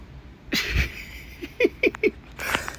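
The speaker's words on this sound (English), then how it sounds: "She's chasing off the other cat." A stray cat gives several short, sharp meows and yowls while chasing another cat off near a backyard feeding spot, a quick series of close cries with faint rustling between them.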